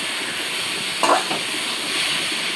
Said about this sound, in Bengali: আর আমি একটু ভাজি নাড়া দিচ্ছি